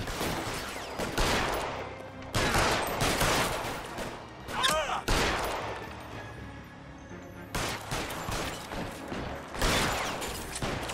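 Bursts of gunfire in the detective game L.A. Noire crack out in loud volleys, dense rapid shots in several separate clusters with brief lulls between them.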